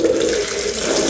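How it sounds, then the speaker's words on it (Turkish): Water rushes steadily from a just-opened tap during installation of a Bosch washing machine, a close, continuous hiss with no voices. "Suyumuzu açalım, kapalı olduğundan eminiz."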